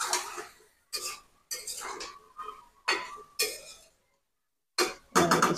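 A lid set over a pot of eggplant cooking with pangas fish gives a series of sharp metallic clinks and clatters, close and loud, in separate bursts with short silent gaps between them.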